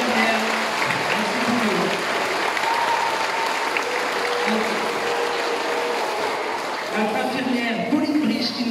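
An audience at a school gathering applauds the staff with sustained, dense clapping that runs loud throughout, while voices speak over it.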